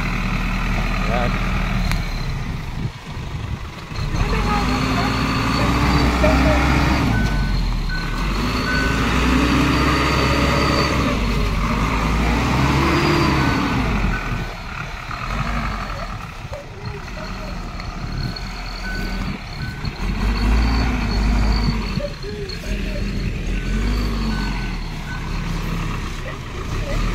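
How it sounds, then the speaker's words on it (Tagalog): A truck hauling sand idles with a heavy, steady engine rumble while a reversing beeper repeats and engine revs rise and fall, with people talking throughout. "Napalaban yung truck na yun."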